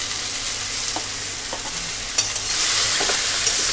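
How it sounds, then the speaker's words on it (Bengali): Drumsticks and potato pieces frying in a pan with turmeric and salt, stirred with a few soft scrapes over a loud continuous sizzle that swells toward the end. "আবারও খুব ভালো করে নাড়াচাড়া করে নেব"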